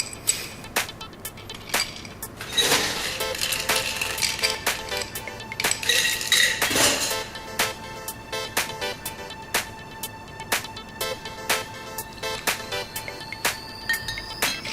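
A bar spoon stirs a cocktail over ice, sending out steady, regular clinks and light rattling of ice against the glass. The sound is close and clear, with a brief busier patch midway and no talking.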